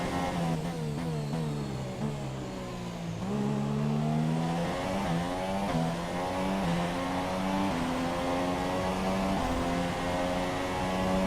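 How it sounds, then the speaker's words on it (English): Formula 1 car engine in the F1 2017 racing game at the Bahrain Grand Prix, a loud continuous high-pitched engine whine rising and falling through gear changes and revs, steady and close throughout with no talk. "just I love the engine so much"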